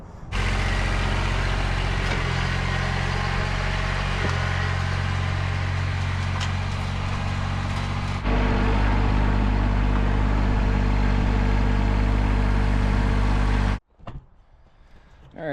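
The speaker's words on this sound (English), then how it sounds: "we're going to put the tractor to work today" A Kubota BX1800 compact tractor engine running close by, a loud steady low diesel drone that steps up in pitch and volume partway through, then cuts off abruptly near the end, followed by faint clatter.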